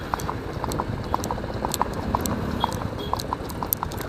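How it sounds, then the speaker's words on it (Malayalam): A horse being ridden along a seashore, its hooves clip-clopping in a steady, even rhythm close by, with a continuous low rumble of background noise and no talking. "ആ കടലിൻ്റെ തീരത്തിലൂടെ കുതിര ഓടിക്കുക എന്ന് പറഞ്ഞാൽ വല്ലാത്തൊരു വൈബാണ്"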